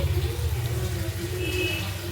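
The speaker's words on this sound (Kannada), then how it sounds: "ಒಂಚೂರು ನೀರು ಹಾಕ್ಕೊಳ್ಳಿ" Water poured into a pot of potato and green pea curry, giving a steady, close, continuous rushing wash over a low background hum.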